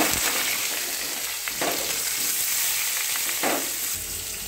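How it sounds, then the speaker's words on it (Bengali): Hot oil sizzles loudly and continuously as panch phoron, garlic and chopped onion are fried, with two brief bursts of sharper spitting as ingredients drop into the pan. "তেলটা গরম হয়ে গেছে, এবারে 5 ফোড়ন দিচ্ছি, তারপরে রসুনটা দিচ্ছি, তারপরে পেঁয়াজ কুচিটা দিচ্ছি"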